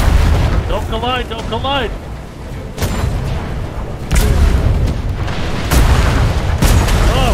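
Ship cannons firing during a naval boat battle in the video game Atlas, several loud booming blasts at irregular intervals amid battle noise, with a voice talking over the opening seconds.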